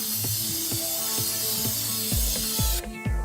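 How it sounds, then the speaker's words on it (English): Spray paint hisses steadily from an aerosol can over a template laid on knifemaking steel, joined by a repeated mechanical clicking rhythm, with the hiss cutting off near the end. "now I'm just going to spray paint over the template"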